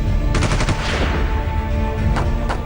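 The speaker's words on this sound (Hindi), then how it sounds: "इसके बाद तो दोनों ओर से तकरीबन 40 राउंड गोलियां चली" Police and kidnappers exchange gunfire, with rapid bursts of automatic shots cracking loudly in clusters over a sustained roar of noise.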